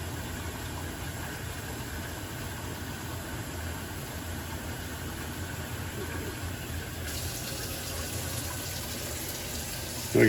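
Hot tap water running steadily into a large canning pot, a constant hissing rush of filling water at moderate level with no talk, ending in a brief louder clatter.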